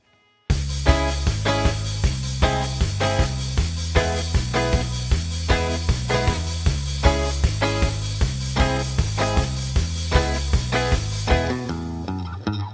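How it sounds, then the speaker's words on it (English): A full rock band plays the bridge and instrumental break of a song, a driving, steady groove with regular drum hits under layered guitar chords, loud and continuous before ending abruptly. "Together with the full band, the bridge and the instrumental break sounds like this."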